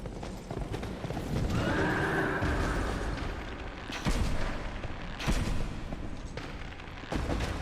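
A horse in the video game Dark Souls 2 whinnies amid clopping hooves and loud game effects, the neigh rising clearly in the middle while booming impacts punctuate the mix without any speech.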